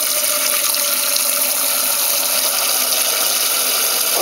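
Tap water runs steadily into a cooking pot, a continuous broadband hiss and splash that holds at even loudness throughout with no talking.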